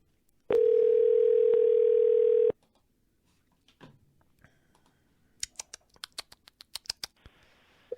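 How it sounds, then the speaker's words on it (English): A telephone line tone sounds for about two seconds, followed by a pause, then a run of rapid clicks and a second short tone. "you're going to hear some ringing"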